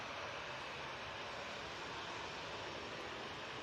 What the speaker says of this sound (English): Ryanair lining up for its departure.